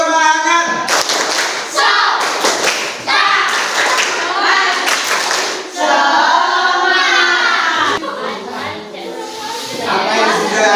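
A classroom group of teachers or students does a rhythmic spirit clap before presenting, loud patterned claps mixed with chanting and children's voices throughout.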